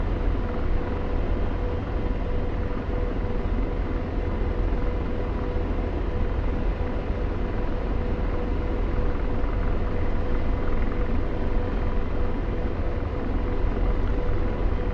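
AH-64 Apache helicopter flying in the DCS combat simulator, a constant heavy rumbling drone of engine and rotor that stays loud and steady throughout, with no voices.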